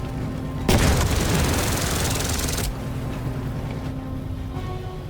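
A tank attacks machine gunners on a beach in the World War II turn-based tactical game Headquarters, with a sudden loud burst of gunfire and explosion lasting about two seconds over a constant background rumble.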